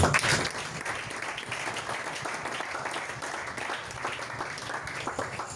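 A church congregation applauds, a steady wash of many hands clapping together that carries on for several seconds, filling the room at moderate loudness.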